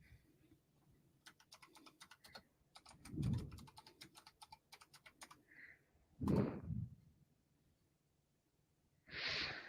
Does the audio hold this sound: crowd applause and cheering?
no